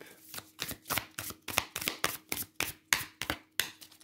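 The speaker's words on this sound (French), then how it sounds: "je mélange bien les cartes pour qu'on passe à votre groupe, puisque c'est le même tarot" A deck of tarot cards is shuffled by hand up close: a steady run of about fourteen quick, crisp riffling bursts at an even rhythm, with no talk over them.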